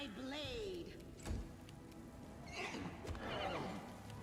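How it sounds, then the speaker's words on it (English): A horse in the fantasy role-playing game Pathfinder: Wrath of the Righteous whinnies and snorts softly amid quiet in-game ambience and background sound effects, faint and somewhat distant. "The horse is munching."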